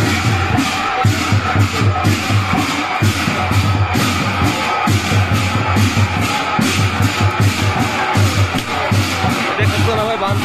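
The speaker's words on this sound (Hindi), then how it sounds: "देख रहे हो ना भाई कितना भीड़ जमा हुआ है।" A large crowd gathered at a Durga Puja celebration creates a loud, close, dense murmur of many voices, with shouts, shuffling and repeated rhythmic drum-like thumps running under the steady din.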